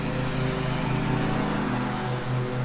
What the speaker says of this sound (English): my brother is mowing the farmyard out here